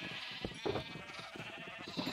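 Sheep in the video game Minecraft bleat over and over in short, clustered calls, crowded together and overlapping at moderate volume, with no voices among them.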